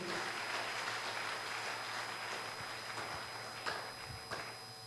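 A congregation at a Sunday service at KKKT Kariakoo church claps for Jesus, a steady wash of many hands that stays fairly soft and continuous for several seconds with a few sharper claps near the end.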